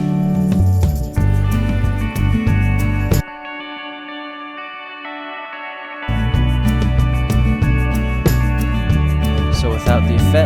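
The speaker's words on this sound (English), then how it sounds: "and then I just added some delay to it and some verb." A guitar lead line from a cinematic indie folk/pop song, drenched in delay and reverb, rings out over a full, sustained backing mix. The whole arrangement drops to a thin, ambient wash midway, then swells back in with repeating echoed notes.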